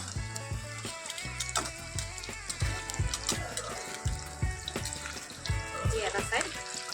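Chicken pieces frying in oil over a low-medium flame for restaurant-style chilli chicken, a steady sizzle under music-like tonal sounds and occasional utensil knocks, fairly loud throughout.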